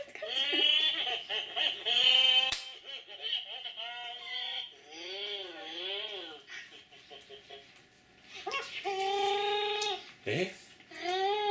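A Furby Chewbacca toy makes wavering, goat-like bleats and warbling electronic cries in several bursts, close and fairly loud, with one sharp click partway through.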